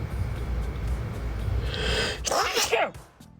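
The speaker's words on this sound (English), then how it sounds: "But before we do that, I'm gonna sneeze." A single loud sneeze bursts out close to the microphone after a sharp inhale, following steady background rumble.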